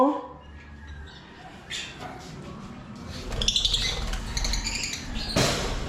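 A bird squawks and chirps in harsh bursts close by, over a low rumbling background, with someone speaking at the start.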